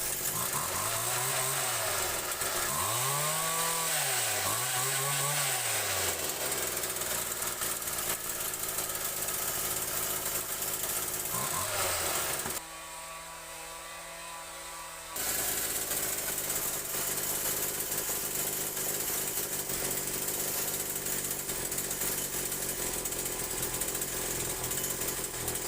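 A Kawasaki TJ27 petrol strimmer with a carburettor needing adjustment runs loud and close, its engine revving up and down while cutting through growth, drops out briefly, then drones on steadily.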